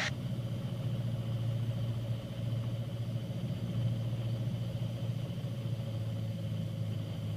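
Aircraft engines held at idle power during a landing approach into Exeter, UK, heard from inside the cockpit as a steady, unbroken drone that stays loud and even throughout, with no voices.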